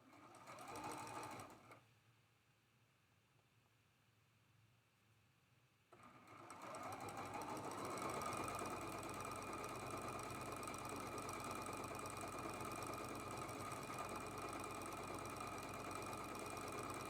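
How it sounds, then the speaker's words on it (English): Domestic sewing machine stitching a seam on a nine-patch quilt block, starting with a brief burst, pausing, then running in a steady, close, loud mechanical whir from about six seconds to the end. "then flip it over and sew that seam"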